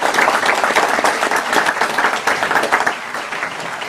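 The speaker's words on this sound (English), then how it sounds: "So if we give them a round of applause." Steady, dense applause from a large audience, loud and sustained throughout with no voices standing out.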